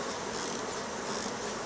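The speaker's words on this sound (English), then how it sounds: "I really can't put my hand there. It's covered in bees." Honeybees swarm over a beehive frame in a dense, steady buzzing hum, close and continuous with no voices.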